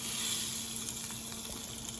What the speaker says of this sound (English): Get in close so you can hear that sizzle.